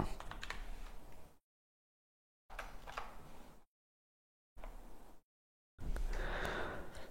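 Computer keyboard typing in four separated bursts with silent gaps between them, close and fairly faint, with rapid clicking keystrokes and no voice.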